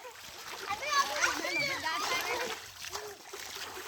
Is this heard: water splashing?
yes